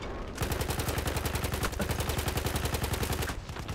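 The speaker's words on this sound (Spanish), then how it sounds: "A ver, ¿quién está disparándome?" Dense, continuous automatic gunfire from a Battlefield 1 match, rapid rhythmic bursts running loud and close almost without pause, with no talk over it.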